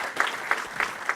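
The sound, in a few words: applause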